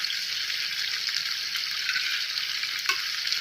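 A budget steak frying in a pan, heard as a steady, loud, broad sizzle of hot fat that continues without a break, with a faint clink near the end.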